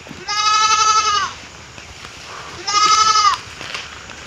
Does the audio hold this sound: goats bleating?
yes